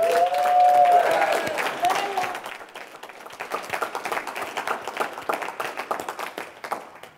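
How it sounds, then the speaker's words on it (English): A crowd in Orlando applauds the host and staff at a dating seminar, steady dense clapping with a few cheers early on, settling into a continuing even patter of hands. "Let's give a round of applause to your host, and to Anthony Johnson,"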